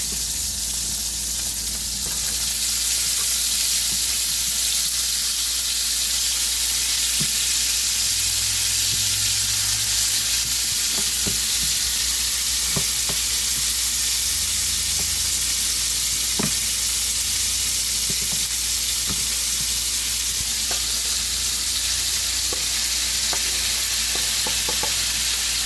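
Sausage and tomatoes sizzle loudly in a pan over very high heat, a constant close hiss with occasional knocks and scrapes of stirring.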